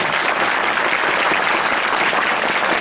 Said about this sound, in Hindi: अब एक बार जोरदार तालियां बजा दीजिए,